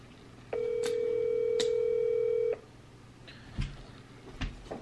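Ringback tone of an outgoing phone call: one steady electronic ring lasting about two seconds, then it cuts off and leaves faint room noise with a few small knocks.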